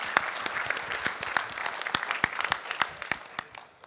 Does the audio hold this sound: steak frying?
no